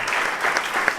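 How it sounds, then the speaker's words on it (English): Brief, fairly quiet patter of audience applause at a community police forum public meeting, lasting about a second with no talk. "we give them a round of applause"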